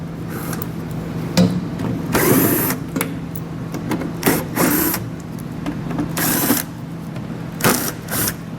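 A socket ratchet removes screws from the bumper of a 2019 BMW X5, giving repeated bursts of clicking and whirring with short pauses between them, close and fairly loud.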